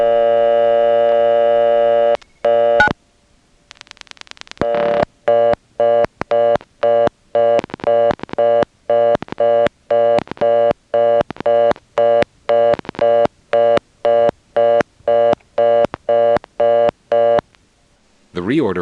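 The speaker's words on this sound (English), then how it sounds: "if you listen carefully, you'll hear another customer coming in on top of the reorder and dialing on it" Telephone reorder tone on an independent step-by-step exchange in Nantes, Quebec, pulsing in a steady fast on-off rhythm, with another line's dialing tones and clicks cutting in over it, loud and alone without talk.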